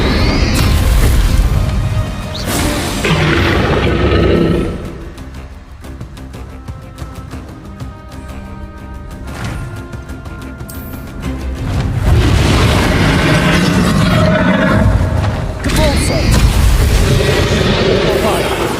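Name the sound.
spell explosions (Confringo, Bombarda) in video game Hogwarts Legacy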